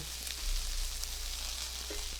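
Potatoes and onion fry in a pan, a steady close sizzle with soft crackles running the whole time and no talking.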